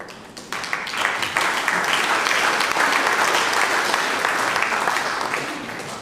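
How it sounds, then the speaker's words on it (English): A Unitarian church congregation breaks into warm, sustained applause after the Sunday sermon, a dense wash of many hands clapping that swells quickly and holds steady before tapering slightly at the end. "clapping after the sermon is really not necessary. But we're a happy, clappy bunch"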